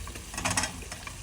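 Boiled vegetables stir-fried into a ready masala in a pan while cooking biryani, giving a steady close sizzle broken by scraping stirs and bursts of louder frying.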